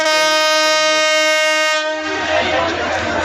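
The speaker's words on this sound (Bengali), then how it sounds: "এটা সিলেটের উদ্দেশ্যে এই ট্রেনটা চলে যাবে" A long, loud train horn blares at Sreemangal station, then cuts off as the rumble of the moving train departing for Sylhet takes over, close by.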